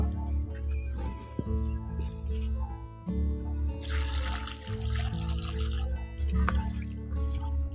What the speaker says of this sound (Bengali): এখন সজনে ডাটাগুলো সব কেটে নিয়েছি এবার ভালো করে ধুয়ে নেব